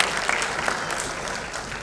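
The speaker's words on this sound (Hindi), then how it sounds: "जोरदार तालियों के साथ प्लीज इनका स्वागत कीजिए।" A brief, steady burst of audience applause at a Dadasaheb Phalke award ceremony, a dense hall-filling wash of clapping hands with no pauses.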